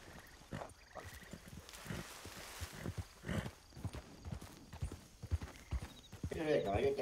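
Horse hooves clip-clop in a Wild West roleplay video game, a steady irregular clatter of hoofbeats under ongoing talk, with a brief neigh near the end.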